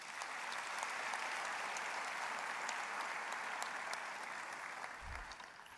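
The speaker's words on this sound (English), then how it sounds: "Please let's give them a round of applause." Sustained audience applause at a university Faculty of Education graduation ceremony, a steady even roar of many hands clapping that tapers slightly toward the end.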